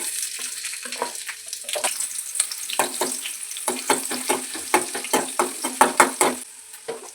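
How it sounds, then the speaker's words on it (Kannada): Green chillies hitting hot oil in a pan set up for egg puffs, giving a steady crackling sizzle with repeated sharp spits and pops throughout, close and fairly loud, with no voices. "ನಾನು ಇಲ್ಲಿ ಪಪ್ಸ್ ಮಾಡಲಿಕ್ಕೆ ಎಣ್ಣೆ ಬಿಸಿ ಇಟ್ಕೊಂಡೆ ಮೊದಲಿಗೆಲ್ಲೇ ಹಸಿಮೆಣ್ಸಿನ್ಕಾಯಿ ಹಾಕೋಬಿಡೋಣ"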